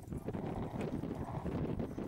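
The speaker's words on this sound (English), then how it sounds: "we're going to have a closer look at the Lancers and their horses" Horses of Lancers at a military display walk with clip-clopping hooves, a soft, faint run of irregular clopping steps under outdoor background noise.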